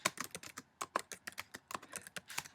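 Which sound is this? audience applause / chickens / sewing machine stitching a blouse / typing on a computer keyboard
typing on a computer keyboard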